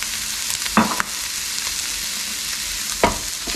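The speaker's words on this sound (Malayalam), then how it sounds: "ഇതൊന്ന് മിക്സ് ചെയ്ത് കൊടുക്കാം." Chicken being stirred in a frying pan with garam masala and black pepper, a steady close sizzle with a couple of brief scraping stirs, no talking.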